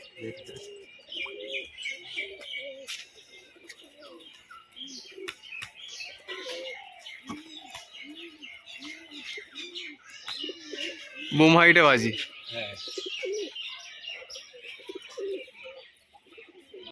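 Pigeons coo in repeated soft low phrases in a loft, with a louder burst of flapping or calls near the middle, while someone talks over much of it.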